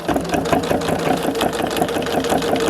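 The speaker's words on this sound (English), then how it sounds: "I'll just stitch another row for you to see" Sewing machine stitching another row along a sun hat brim, backstitched at each end, with a steady, close, fast chatter of needle strokes running continuously throughout.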